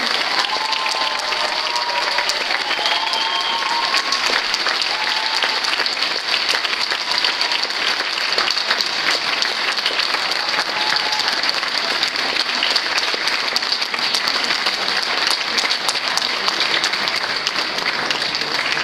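Sustained applause from the audience at a school ball in Slavkov u Brna, steady dense clapping from many hands that fills the whole stretch without pause, with a few faint voices and whistles mixed in.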